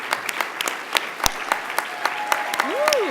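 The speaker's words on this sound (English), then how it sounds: "let's give a round of applause to all of our finalists and winners" Finalists and winners at the 2018 Online Journalism Awards ceremony receive applause in scattered, distinct claps that thicken into steadier clapping, while a rising and falling whistle cuts through near the end.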